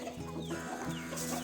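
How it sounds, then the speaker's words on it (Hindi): Desi chickens cluck softly on a village poultry farm, a faint, steady murmur of hens with a low background hum and no talking. "वो मुर्गियाँ ये देखें, सारी मुर्गियाँ ये देसी मुर्गियाँ हैं।"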